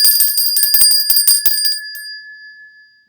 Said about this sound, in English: the bell still rings for me, as it does for all those who truly believe.